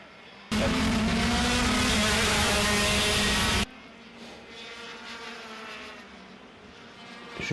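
Race cars roaring past on the Varennes circuit, a loud close engine howl lasting about three seconds, then a steadier distant drone of more cars continuing behind it.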